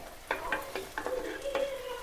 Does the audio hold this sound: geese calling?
no